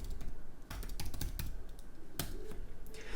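Steady, quick typing on a computer keyboard, entering the name for a new Python project file; close, dry clicks run unbroken with no voice over them.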